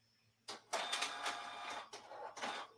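A desktop printer printing an invoice, with a burst of whirring feed and mechanical clatter in several pulses after a quiet start, fairly close indoors.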